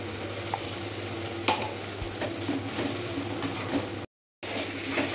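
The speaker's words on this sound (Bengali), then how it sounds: "এবার আমি কাজু বাটাটা অ্যাড করে দেবো।" Cashew paste goes into a masala that has been fried until the oil separates, with a steady close sizzle and a few light scraping stirs. The sound cuts out briefly near the end, then resumes.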